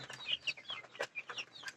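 Tiger breed chickens about 32 days old cluck and chirp close by in a quick, uneven run of short calls, faint and with no voices.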